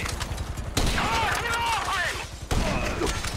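Rapid bursts of gunfire crackle in a GTA V mission shootout, dense volleys starting abruptly and running for a couple of seconds, then cutting out before another burst begins.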